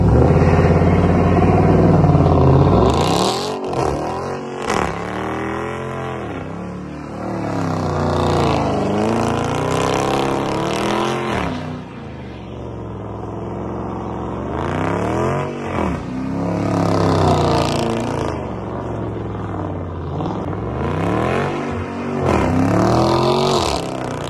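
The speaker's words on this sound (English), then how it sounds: "I'm finna put a clip in here showing me spinning on the stock differential" Dodge Charger R/T engine revving hard as the rear wheel spins on the stock open differential, loud rising and falling roars repeating over about twenty seconds, close and continuous with no talk.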